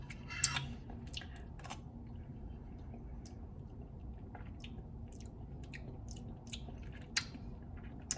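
Someone chews and tastes a homemade sour, liquidy fermented food, with soft, close mouth sounds and occasional small clicks over quiet room noise and no talking.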